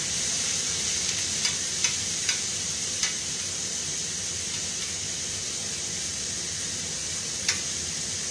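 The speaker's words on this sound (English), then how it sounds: "Here's our tomato to go with our stir fry. Now let's stir it and see what happens." Pork and tomato stir-fry sizzles steadily in a hot pan, a constant hiss broken by a few sharp utensil clicks as it is stirred.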